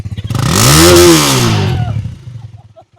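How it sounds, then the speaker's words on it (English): A Honda motorcycle engine blips once: a sharp rev climbs, holds briefly, then falls back to a rough, uneven idle. The engine sits close and loud, with no talk over it. "Give me a rev bomb."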